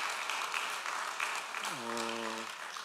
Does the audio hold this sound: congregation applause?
yes